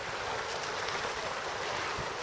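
High river water rushing in a steady, broadband wash outdoors, continuous and fairly loud with no talking.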